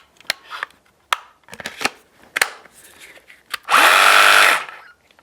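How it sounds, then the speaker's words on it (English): A Hilti jigsaw fitted with its blade runs in one short, loud burst of about a second, following a series of sharp handling clicks and knocks. "we will just pop the blade here into the Hilti saw."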